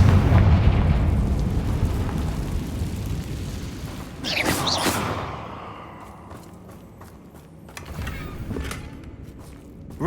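A Confringo blasting spell in Hogwarts Legacy sets off a heavy booming explosion that rumbles and fades, then sharp bursts and pops sound a few seconds later, with a faint clatter of debris after.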